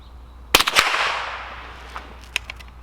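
A Crickett youth-size .22 single-shot rifle fires one sharp crack followed by a few quick echoing reports and a long fading rumble, then faint clicks, close and loud.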